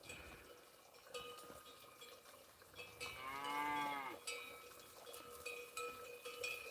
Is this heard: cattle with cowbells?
yes